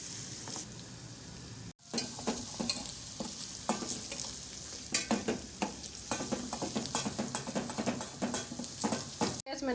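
Garlic and green chillies sizzle and crackle in hot oil as tempering for Pakistani village-style bathua and sarson saag, a steady close frying hiss with stirring scrapes and one brief break near the start.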